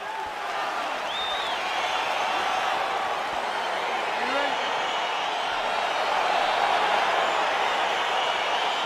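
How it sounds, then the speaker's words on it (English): An arena crowd in the UFC video game on PS5 keeps up a steady, dense roar of cheering and murmuring, with occasional faint whoops rising out of the wash. "crowd getting excited as this fight gets underway"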